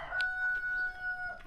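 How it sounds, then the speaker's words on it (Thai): A rooster crows in a rural village near the Laos–Vietnam border, one drawn-out cock-a-doodle-doo call at moderate distance, clear above quiet outdoor ambience. "โอ้โหไก่คันยามนี้"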